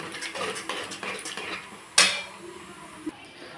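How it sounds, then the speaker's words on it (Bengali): A utensil stirs two eggs into tarka in a metal pan, with repeated close scraping and clinking and one sharp loud clang partway through. "আমি এটার মধ্যে 2খানা ডিম অ্যাড করে ভালো করে এর সাথে নেড়ে"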